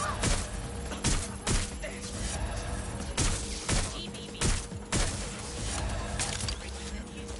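Scattered gunshots from a Watch Dogs Legion firefight, several sharp cracks spaced irregularly over steady in-game background noise, with faint voices mixed in.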